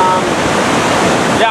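Swollen, flooding river rushing past a washed-out stretch of the Coquihalla highway, a loud, dense, continuous roar of churning water close by.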